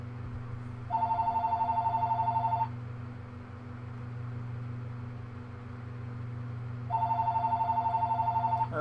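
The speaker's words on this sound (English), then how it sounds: "I'm waiting for it to stop ringing now." An electronic telephone ring warbling in two long bursts separated by several seconds of quiet, heard over steady low hum and background noise.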